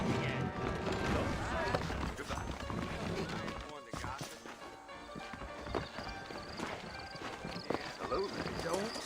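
Horses clip-clop at a steady trot in the Western video game Red Dead Redemption, the hoofbeats fairly close and continuous under music and scattered game sounds, with a brief whinny.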